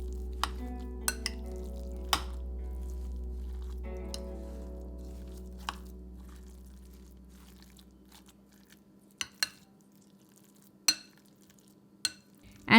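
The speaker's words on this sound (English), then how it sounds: "Mix all the ingredients very well" Chicken momo filling with pepper and oil is stirred and mashed in a bowl, producing soft intermittent squelches and sharp clinks of a utensil against the dish over a fading low hum.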